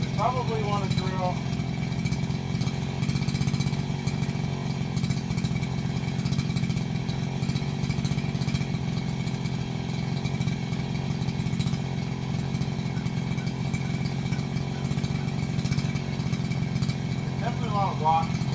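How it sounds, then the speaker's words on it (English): A powered drill or auger runs continuously outdoors over rocky, uneven ground, a steady loud motor drone lasting throughout, with brief chirpy bird-like sounds near the start and end. "we probably want to drill"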